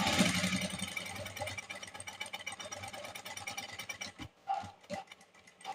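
A sewing machine stitches piping with a steady, fast mechanical chatter that runs close and continuous for several seconds, then stops, leaving a few faint handling knocks.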